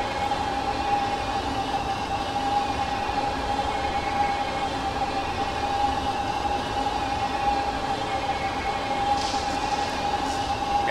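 A DDZ double-decker train running in Train Simulator 2024 Classic: a steady, unbroken rolling rumble with a constant tonal hum, evenly loud throughout and with no talk.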